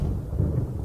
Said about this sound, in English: that thunder is rumbling through my headset